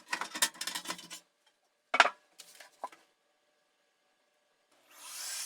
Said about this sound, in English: starting from removing the 6 screws that hold the top cover